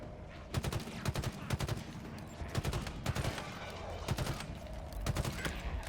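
Shock rifle gunfire in Halo Infinite: repeated sharp bursts of rapid shots in quick clusters over a busy game background, loud and close.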